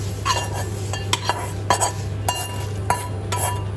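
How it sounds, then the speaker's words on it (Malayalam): A spoon clinks and scrapes in a pot while stirring a jackfruit dish, the lid then set on top, giving several distinct metallic knocks over a steady low hum, close and without talking. "ഇതെല്ലാം കൂടെ ഒന്ന് ഇളക്കി ഒഴിച്ച് മൂടി വെക്കുക"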